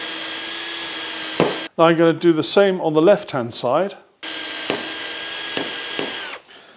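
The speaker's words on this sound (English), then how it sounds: "I'm now going to drill 1, 2, 3 holes" A power drill whirring steadily into wood, drilling holes for a track saw cutting station, stopping while someone speaks briefly, then starting again for another long run.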